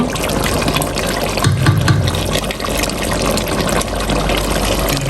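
Broth is poured into a pot of goat mutton and potatoes, making a steady, full rushing and gushing of liquid that runs unbroken and fairly loud throughout.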